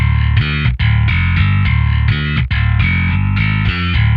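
A loud, gritty distorted synth bass from a eurorack modular setup plays a chunky repeating progressive metal riff, heavy and saturated with buzzing overtones, with brief gaps between phrases.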